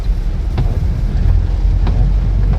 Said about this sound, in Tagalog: Unti-unti nang lumalakas ang ulan.